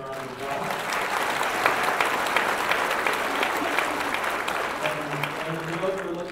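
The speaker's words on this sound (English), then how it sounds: "Please help me welcome them. With your round of applause." An audience at the Mille Lacs Band of Ojibwe State of the Band gathering applauds steadily to welcome the Sweetgrass Girls Circle, a dense, sustained round of clapping with faint voices mixed in.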